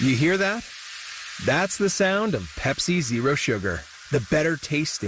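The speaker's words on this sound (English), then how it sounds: "You hear that? That's the sound of Pepsi Zero Sugar." Pepsi Zero Sugar cola poured and fizzing, a steady carbonated hiss running beneath a voice talking throughout, close and fairly loud.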